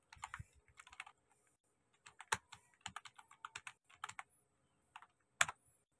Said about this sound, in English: In string, let's type